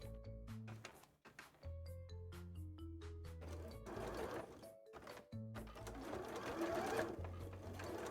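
Sewing machine stitching a sequinned costume piece, a close, steady motor whir with runs of rapid needle clatter, briefly pausing and restarting, with no talking.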